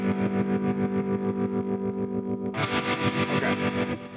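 Distorted electric guitar with gain driven through an HX Stomp, strummed in a steady chugging rhythm, loud and saturated, with a brighter, denser burst of playing in the second half.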